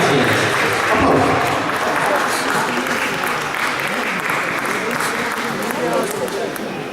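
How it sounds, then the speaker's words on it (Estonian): Vigorous, continuous audience applause fills a dance event after a waltz, loud and close, with voices faintly mixed under the clapping. "Aplaus!"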